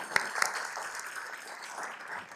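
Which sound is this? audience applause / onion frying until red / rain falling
audience applause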